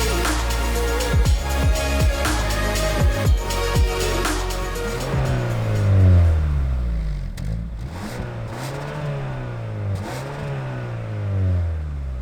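A 2021 Kia K5 GT sedan driving, its engine revving up through rising sweeps several times, fairly loud and close inside the car, with no voices.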